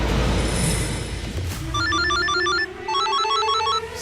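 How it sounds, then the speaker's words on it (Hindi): A telephone rings in repeated electronic trilling bursts, two clear rings following a brief thud, loud and close over a low background hum. "सुबह सुबह किसका फोन है?"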